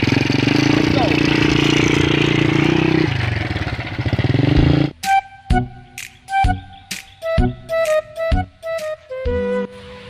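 A motorcycle engine idles steadily at close range, then cuts to a string of sharp, sputtering revs and blips that start and stop in quick bursts.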